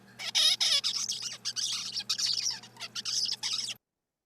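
A young songbird babbles in rapid, uneven bursts of squeaky chirps and warbles, close and alone against a faint low hum.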